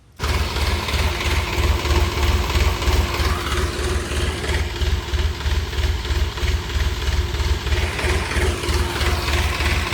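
A tractor engine, just returned to service after welding repairs, idles steadily nearby with a continuous low, even throb that never lets up through the whole stretch.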